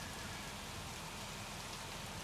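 Artificial rain effect at Universal Studios Hollywood, a steady hiss of falling water spattering on surfaces, broadband and even throughout with no voices.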